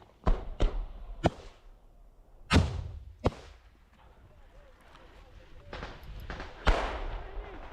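Gunfire and explosions in frontline combat in Ukraine between Ukrainian troops behind a berm and Russians in a nearby tree line: sharp, loud reports and blasts spaced irregularly across the clip, with faint voices between them.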